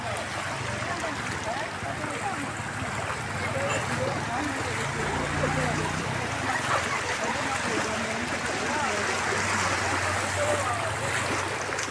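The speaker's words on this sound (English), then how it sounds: "This is a flooded road." Floodwater covering a road after heavy rains in Kenya, a continuous rushing, sloshing wash of moving water with a low engine-like hum in the background, steady and close throughout.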